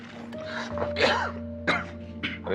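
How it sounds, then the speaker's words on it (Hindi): An elderly man gives a few rough coughs and throat-clearing bursts, close and fairly loud, in short separate outbursts over a low steady hum. "हाँ, थोड़ा खांसी है।"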